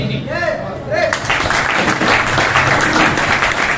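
Audience applause bursts out at a business seminar in Sunariyan, Rohtak, rising into a dense, sustained clatter of many hands after a brief voice at the start.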